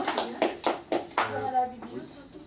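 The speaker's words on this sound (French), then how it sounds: "j'ai coupé les applaudissements" A café-débat audience at a talk on robots and humanity gives a short, scattered round of hand claps, a handful of sharp claps that fade quickly, with voices speaking over and after them.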